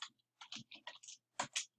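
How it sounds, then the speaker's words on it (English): A formula being typed into a Google Sheets spreadsheet on a computer keyboard: a handful of separate, quiet key clicks, close up, with short gaps between them in an otherwise silent room. "I'm going to type in a formula here."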